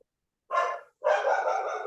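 A dog gives two barks in a quiet room during a park authority meeting, a short sharp bark followed by a longer, drawn-out one, close and loud with no talk over it.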